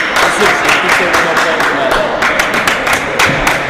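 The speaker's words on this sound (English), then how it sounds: "I don't know why we're clapping, but we are" Spectators clap in uneven bursts at a school basketball tournament game between RTMA Thunder and Heschel Heat. The close, sharp claps mix with crowd noise and people talking nearby.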